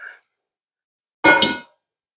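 A hot cast iron skillet, freshly cleaned and restored, is set down with a single loud metallic clang that rings briefly and fades, after a short faint sound at the start.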